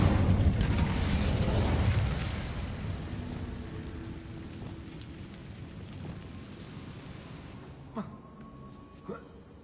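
Incendio fire spell cast in Hogwarts Legacy near a broken bridge: a loud whooshing burst of flame at the start that gradually fades into a crackling roar, followed by a couple of sharp pops near the end.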